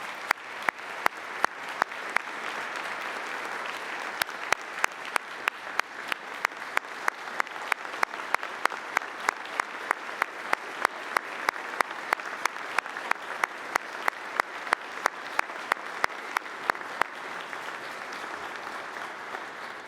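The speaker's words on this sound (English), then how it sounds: "Let's give each of the award recipients another round of applause." An audience applauds at a community policing awards ceremony for law enforcement honorees. The clapping stays steady and sustained for about twenty seconds, with scattered sharper claps standing out over the room-filling patter and no talking.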